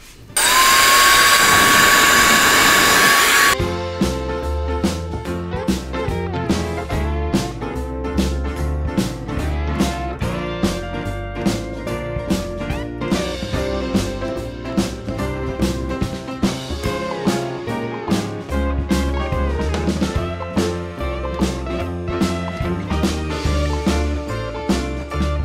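A Cecotec IonCare 6000 hair dryer on power setting 2 blows with a loud, steady broadband rush for about three seconds, then cuts off abruptly and rhythmic background music takes over.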